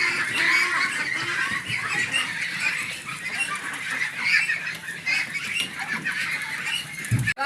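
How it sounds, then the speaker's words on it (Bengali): A flock of Peking ducks, a meat breed, quacks and honks together in a continuous dense chorus, fairly close, with no talk over it. "হাঁস"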